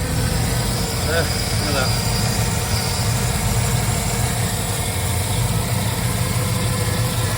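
A Triumph Stag car engine idles steadily and continuously with a deep rumble, close by, while someone speaks briefly over it.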